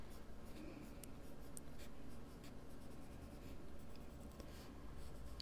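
A well-worn colored pencil scratches steadily across paper for several seconds, a soft continuous rasping drawn close and quiet with no talking over it.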